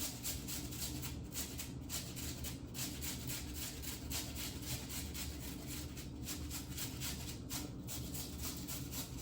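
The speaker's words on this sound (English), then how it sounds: "This is definitely shredding them up pretty fine." Potatoes rubbed back and forth over a fine grater for hashbrowns, a steady rasping scrape that repeats in even strokes throughout, fairly quiet and close, with no voices.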